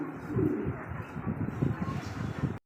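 Pigeons coo at a pigeon farm in soft, repeated low throaty calls that overlap close by, with a faint airy background.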